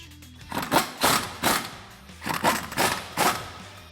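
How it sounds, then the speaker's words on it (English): A torque wrench tightens wheel lug nuts, giving six or seven loud, evenly spaced ratcheting bursts close by with short gaps between them and no talk over them. "We need to use a torque wrench."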